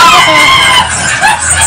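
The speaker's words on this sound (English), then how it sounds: "You can hear the screams and you get scared." Screams from people in a haunted corn maze at a Halloween horror event, loud shrill cries layered together in a brief burst close by.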